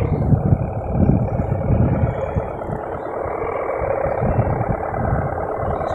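A buffalo-type kite hummer on a flying apple kite drones steadily and loudly, a thick, buzzing low tone with a rough, pulsing texture that holds without a break from start to finish.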